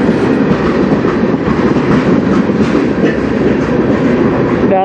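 A CN freight train rolls past at close range on the Strathroy Subdivision, a loud continuous roar of wheels and rattling cars with a faint squeal near the end.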